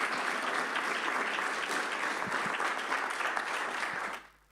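Audience applause after a monologue talk in a university cultural forum hall: dense, even clapping from a crowd, sustained for about four seconds before tapering off quickly.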